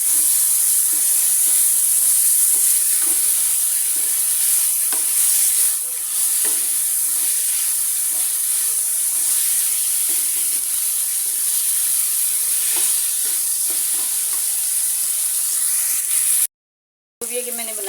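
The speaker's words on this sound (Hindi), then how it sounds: "अब इस लोबिया की बुनाई करूँगी" Soaked fine white lobia beans fry in masala with a loud, continuous hissing sizzle and occasional soft stirring scrapes. The sound cuts out for a moment near the end.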